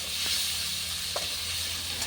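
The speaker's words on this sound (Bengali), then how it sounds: "এখন এটাকে 10 মিনিট নাড়াচাড়া করতে হবে, ভেজে নিতে হবে।" Ginger garlic paste sizzles steadily in a hot pan as it is fried and stirred, a continuous close hiss broken by a couple of soft scraping strokes.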